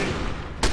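Gunfire in the video game Fallout 3, a loud rumbling blast followed by a sharp, close burst of shots at the end.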